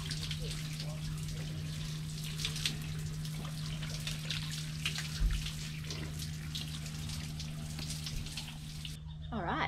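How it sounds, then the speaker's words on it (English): Water splashes and trickles steadily from an outdoor bucket shower heated by a wood fire, a continuous close pouring with faint hum underneath, cut off abruptly near the end. "So this is a bucket shower that's heated with a wood fire out the back here."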